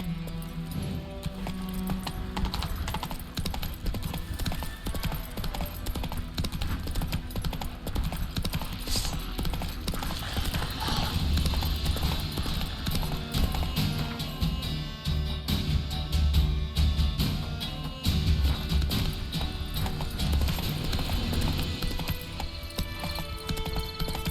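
Roach the horse galloping in Witcher 3, with rhythmic clip-clop hoofbeats running steadily throughout, close and fairly loud over low game ambience and occasional mechanical clatter.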